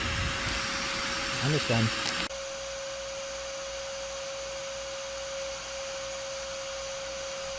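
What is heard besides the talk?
vacuum running to suck up yellow jackets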